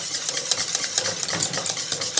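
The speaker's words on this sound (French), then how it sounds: "Fouetter énergiquement, il ne faut pas qu'il fasse omelette, il ne faut pas qu'il cuise." Egg yolks are whisked energetically into a mornay sauce off the heat, a quick rhythmic scraping and tapping of a whisk against the bowl, close and continuous, with no voices.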